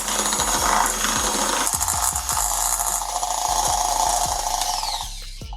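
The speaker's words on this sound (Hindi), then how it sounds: "इसे हम इतना बीट करेंगे कि सॉफ्ट सा फ्लफी सा हो जाए," Homemade butter is beaten until soft, fluffy and creamy for eggless chocolate cupcakes, producing a bright, whirring rattle with repeated knocks and taps against the bowl over about five seconds, close and loud, without speech.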